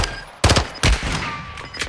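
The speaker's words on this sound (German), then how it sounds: "Ich hab ihn wieder angeschossen ein bisschen." Gunfire in Call of Duty: Modern Warfare II comes in two loud, punchy bursts of rapid shots close by. A fainter rattle of more shooting trails off between and after them.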